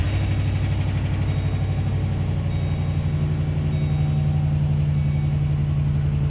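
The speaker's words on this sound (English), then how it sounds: "I think I should turn on the truck, let it run for a little bit." A pickup truck engine idling steadily at close range, an even low rumbling drone with a regular pulsing throb and no other sound.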